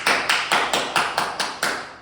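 Steady hand clapping at a podcast session, eight crisp, evenly spaced claps in quick succession, close and loud with no talk over them.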